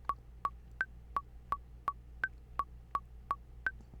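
A studio click track at 168 BPM ticks out sharp, evenly spaced metronome beeps, about eleven in four seconds, some pitched higher as accents, over a faint low hum.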